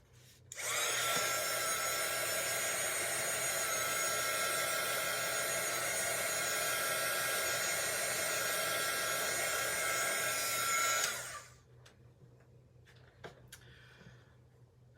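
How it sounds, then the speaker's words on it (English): Heat gun used on a craft transfer: a steady, whirring blower hum with a high whine starts abruptly, runs evenly for about ten seconds close by, then cuts off, leaving faint handling taps. "I'm gonna run the heat gun again so we can try this."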